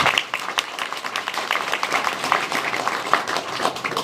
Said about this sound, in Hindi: जोरदार तालियां बजाई जाए सम्मानित साथियों